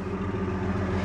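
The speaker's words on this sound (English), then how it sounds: "Listen to this little engine run." The rebuilt engine of a 1946 Chevrolet pickup idles steadily with an even, low, humming drone, close and alone.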